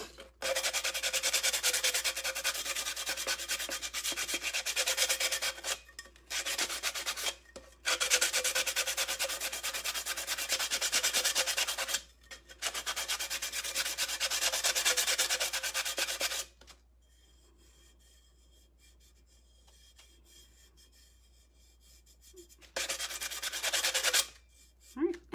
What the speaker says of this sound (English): And I just kind of rub it.